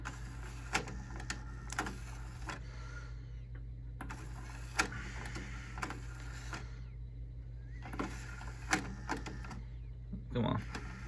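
A 1987 Fisher DAC-196 five-disc CD changer runs its mechanism, producing bursts of mechanical whirring and clicking separated by pauses over a steady low hum, fairly faint.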